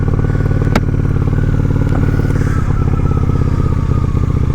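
A Honda Shadow 750 ACE motorcycle cruises on a cool day with a loud, steady engine drone heard close up from the rider's position, holding an even throttle throughout.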